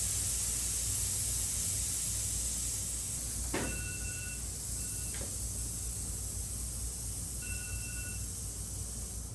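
Air suspension on a Volkswagen Beetle chassis being let down, a steady, fairly loud hiss of escaping air that runs throughout and eases slightly, with a couple of sharp clicks and brief tones in the middle.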